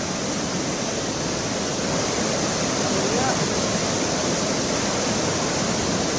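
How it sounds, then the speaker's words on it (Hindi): Floodwater torrent after a cloudburst rushes downhill carrying debris, a steady loud roar of churning water with no letup, close and constant throughout. "पानी तेज़ रफ्तार से ऊपर से नीचे की तरफ आ रहा है और अपने साथ मलबा ला रहा है"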